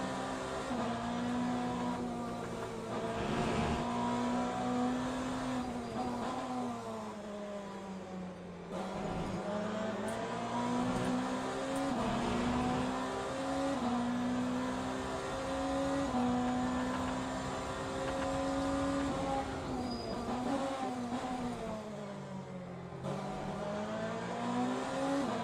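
Ferrari race cars in the racing game Le Mans Ultimate roar steadily at high revs for the whole stretch, with engine pitch rising and dipping through gear changes and a brief drop near the middle, loud and continuous.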